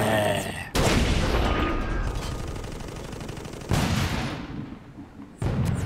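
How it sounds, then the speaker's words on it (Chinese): Heavy artillery fires in the Toy Soldiers video game, three loud booming blasts spaced a couple of seconds apart, each trailing off into a rumbling decay. "我们要用我们重火炮把这个敌人破炮给打掉"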